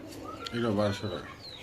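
A pair of large pigeons at a pigeon farm coos in a short, close, soft burst of low throaty calls, with faint background noise around them.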